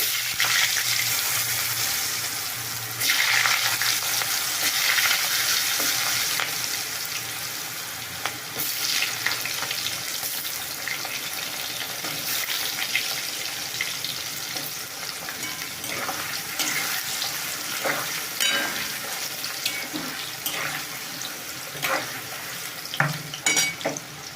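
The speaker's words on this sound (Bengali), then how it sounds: "আলুগুলো হালকা করে আগে ভেজে নেব" Potatoes fry lightly in hot oil with nigella seeds, giving a steady close sizzle broken by occasional stirring scrapes and clinks of a utensil in the pan, with no talking.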